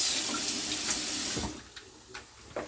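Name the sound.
rinsing eggplant under running tap water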